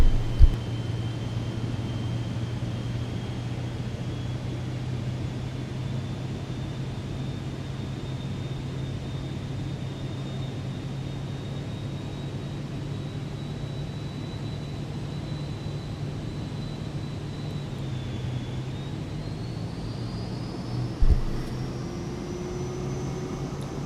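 A Cirrus Vision Jet on landing approach into Dunedin, New Zealand, in Microsoft Flight Simulator 2024, with a steady jet engine drone and a high whine that dips and rises as power changes, plus a couple of brief clicks.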